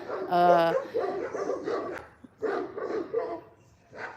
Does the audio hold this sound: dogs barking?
yes